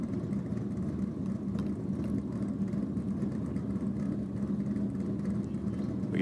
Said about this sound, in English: hear the boost coming up in Roberts VL now